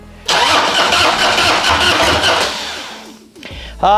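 A cold carbureted motorcycle, choked in a roughly 40-degree garage, cranks on a lithium battery and fires into a loud, rough running burst that sputters, then catches again, close up.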